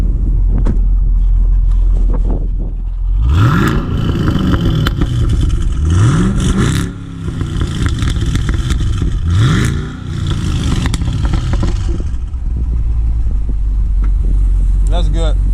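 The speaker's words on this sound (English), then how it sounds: "Give it some gas. 3 revs." A 2016 Chevy SS sedan, the Holden-built car, revved three times in succession, each sharp climb in engine pitch dropping back to a loud, deep idle rumble between pulls, heard up close.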